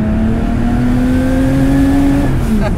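A 1975 Porsche 911 Carrera Turbo engine revs steadily upward, its pitch climbing for over two seconds before dropping sharply as it hits the 6,500 rpm limiter, loud and close.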